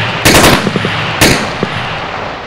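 Bursts of automatic rifle fire in the video game Arma 3, two loud rapid volleys about a second apart with a few scattered single shots between, no talk over them.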